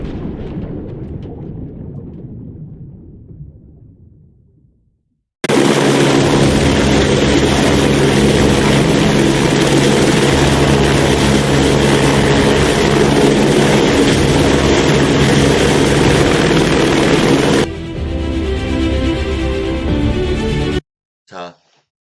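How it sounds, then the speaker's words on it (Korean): A helicopter sound effect is added in video editing software: a loud, dense rotor-and-engine roar that starts abruptly, holds steady for about twelve seconds, then shifts and cuts off, after a fading noisy lead-in. "여기서 하면 이 헬기 소리가 있었잖아요"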